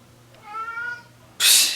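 A domestic cat meows once, a clear rising-and-falling call at close range, followed by a brief hissy burst of noise; no talk over it.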